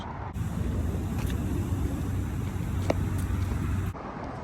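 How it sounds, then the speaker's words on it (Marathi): Steady roar of wind buffeting and car traffic rushing across the Golden Gate Bridge in San Francisco, a constant close rumble with no talk. "तुम्हाला आवाज येत असेल तो वाऱ्याचा गाड्यांचा हा आवाज आहे"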